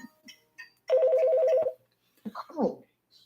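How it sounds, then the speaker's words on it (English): A telephone rings once in a steady electronic trill on a radio call-in show, loud and close, followed by brief voices. "phone's ringing"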